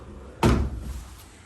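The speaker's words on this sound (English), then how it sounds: "Sliding doors." A sliding closet door in a remodeled hotel room at Loews Portofino Bay Hotel bumps shut with a single sharp, close thud that trails into a short rattle.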